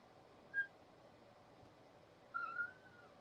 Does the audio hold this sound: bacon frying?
no